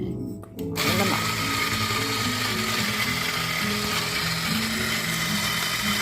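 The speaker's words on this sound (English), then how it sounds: "Love that I can smell those fresh beans being ground up." Coffee beans grinding in an electric grinder to be used in a coffee press: after a brief quiet moment, a loud, steady whirring grind starts close by and runs without a break.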